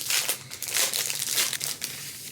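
A paper envelope for a DIY wedding save-the-date is handled up close, giving continuous crinkly rustling and crackling with irregular bursts, with no talk.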